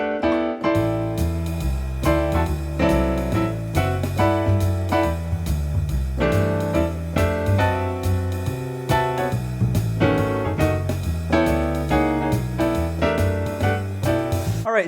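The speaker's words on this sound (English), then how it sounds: "this is called the quartal voicing technique" Jazz chords built in fourths, in the quartal voicing style, ring out as a steady sequence of sustained, full-bodied voicings with a low bass line, loud and close, with no talking.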